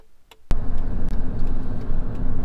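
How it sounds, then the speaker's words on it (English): A Hyundai Tucson car tows a heavy Ram 3500 pickup truck, heard from inside as a steady, loud low road and engine rumble that starts abruptly after a faint tick, with no talking. "We've got the mighty Hyundai Tucson pulling my Ram 3500."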